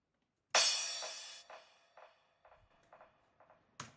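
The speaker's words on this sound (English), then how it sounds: "Then I used a crash with a delay." Crash cymbal in a minimal house track fed into a quarter-note delay: one bright crash hit followed by a train of fading, evenly spaced echoes, with a new crash at the end.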